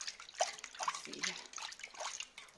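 Running water rinses a large island snail, with close splashing and trickling under quick handling noises and brief liquid spatters.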